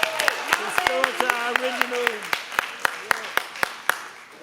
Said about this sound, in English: Y'all come on, clap it up for the Watoto again